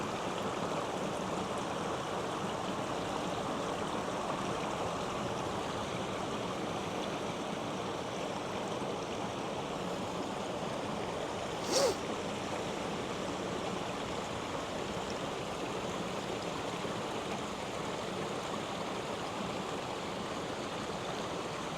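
A partly frozen stream flows under ice in winter woods, a steady, even rush of water with one brief louder splash partway through.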